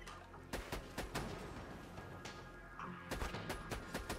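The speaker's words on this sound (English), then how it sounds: "Let's go fire damage sniper." Fire-damage sniper rifle shooting in Borderlands 2: a string of sharp, irregularly spaced shots with some closer together, over a steady game background.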